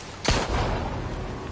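A single sharp gunshot cracks out in an action revenge film, a loud broadband blast followed by a short rumbling tail, with no talk.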